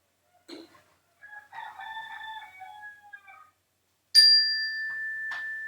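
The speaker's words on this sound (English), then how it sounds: "Chickens are being very vocal today." Backyard chickens cluck faintly from a distance, then a rooster lets out a drawn-out crow, and a clear ringing bell tone sustains over the birds near the end.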